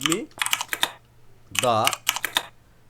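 Computer keyboard typing in quick bursts of close, crisp key clicks, with a brief voice sounding in the middle.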